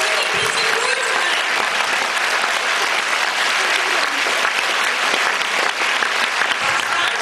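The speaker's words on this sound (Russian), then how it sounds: "Аплодисменты. Жидкие аплодисменты ваши." Seminar audience at a directors' event for a cosmetics company applauds, a loud, continuous wall of clapping filling the hall without pause.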